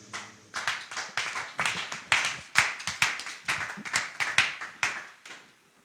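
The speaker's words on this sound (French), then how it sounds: "Pendant qu'il arrive, on acclame le Seigneur." A church congregation claps in steady rhythmic unison to acclaim the Lord during a prayer service, with many hands striking together in a lively, even beat that fades out at the close.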